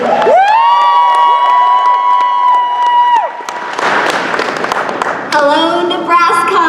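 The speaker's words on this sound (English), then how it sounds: "Let's give a round of applause." A convention crowd at an anime con in Nebraska cheers and applauds a welcomed guest, loud and close, with sustained shouts and whoops over clapping, a brief dip midway, then a fresh burst of cheering.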